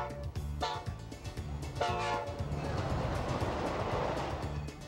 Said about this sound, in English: The locomotive pulling our train this afternoon is old number 90, built back in 1924 by the Baldwin Locomotive Works of Philadelphia, Pennsylvania.